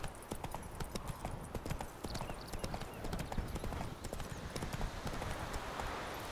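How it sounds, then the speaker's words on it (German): Horse hooves clip-clopping steadily while riding across open country in The Witcher 3, a continuous rhythmic trot heard fairly quietly under a noisy wind-like game ambience. "Außerdem reiten wir mal querfeldein dahin."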